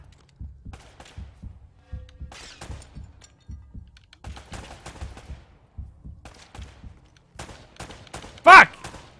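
Gunfire in Uncharted: Drake's Fortune, a run of rapid, regular shots spread through the scene, ending in one loud, dense blast near the end.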